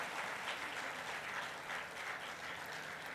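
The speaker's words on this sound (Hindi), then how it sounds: "ज़बरदस्त तालियां" An audience at a music and dance festival applauding, a sustained wash of many hands clapping at a steady level, somewhat distant and fairly soft, no voices on top.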